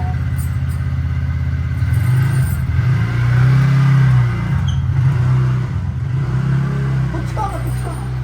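A car or motorbike engine that needs servicing drones and revs steadily up close as the vehicle pulls away, with rougher surges in the middle.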